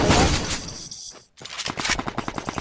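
Rapid bursts of shotgun fire in a video game, loud and close: a dense volley, a brief gap, then a quicker run of sharp repeated blasts.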